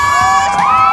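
Children cheer and scream loudly together at a car wash, with excited high-pitched shouts and whoops overlapping up close.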